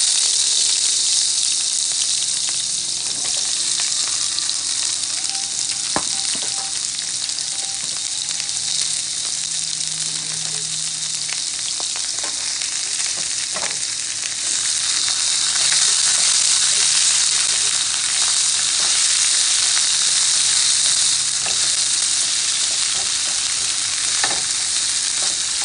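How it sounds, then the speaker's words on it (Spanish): Precooked vegetables fry steadily in hot oil for mei fun with shrimp, giving a loud, continuous sizzle with occasional stirring scrapes and no voices. "ahora tengo el aceite caliente y las voy a echar a freír todo"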